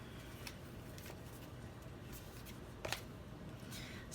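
A deck of cards is shuffled and drawn for a card reading, a soft continuous riffling with a few sharper flicks of cards, faint and close with no talk.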